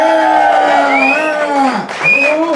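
Loud crowd cheering and yelling, sustained whoops and shouts rising and falling together over a couple of seconds.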